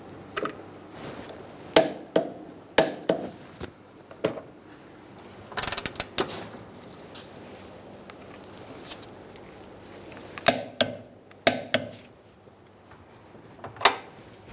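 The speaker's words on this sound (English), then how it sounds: "we are torquing this to 101 foot-pounds" Torquing the rear shock absorber bolt on a Kia Soul gives sharp, irregular metallic clicks and knocks from the wrench, near and fairly quiet, with short gaps and a denser cluster midway.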